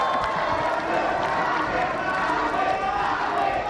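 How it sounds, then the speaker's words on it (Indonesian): A studio audience at a 2019 Indonesian vice-presidential debate makes a dense, continuous roar of applause and crowd noise with cheering mixed in. It stays loud and even throughout. "Sekarang boleh tepuk tangan. Tepuk tangan."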